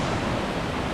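Waterfall roaring above a stream near a village in Istria, a steady, dense broadband rush of falling water with no breaks or talk.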